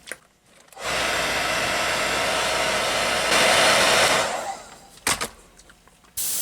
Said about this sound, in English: I'm going to hit it with the dryer